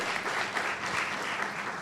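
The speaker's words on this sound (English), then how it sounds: "Let's clap, please." An audience at a Nigerian Bar Association law week sitting bursts into brief, dense applause, a short steady wash of many hands clapping.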